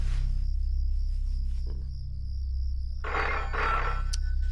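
An indoor telephone rings with a steady electronic trill, carrying through the clip at moderate loudness, with faint rustling and a short burst of other noise near the end.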